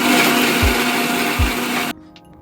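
A mixer grinder whirs loudly and steadily as it grinds fried spices with a little water for a sprouts sambar, then cuts off abruptly near the end.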